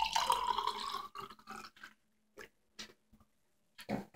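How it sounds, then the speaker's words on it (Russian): Spumante sparkling wine pours into a glass with a fizzy, splashing stream over the first second, followed by a few short, quiet trickles and drips in separate bursts. "Вот спуманты можно наливать вот так вот."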